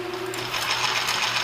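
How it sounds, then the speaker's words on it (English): Power drill boring a clearance hole just over a quarter inch through wood for a toy fishing pole, a steady close motor whine that holds at one pitch and grows slightly louder as the bit cuts. "now we need to bore a slightly bigger than a 1/4 inch clearance hole"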